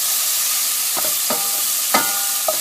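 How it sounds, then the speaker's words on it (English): Tomatoes being stirred into onions cooking in a pan over medium heat, a bright steady sizzle with four distinct scraping strokes of a spoon, close and without speech. "We're going to go ahead and add our tomatoes to onions here. Do another mix here, and it's still on medium heat right now."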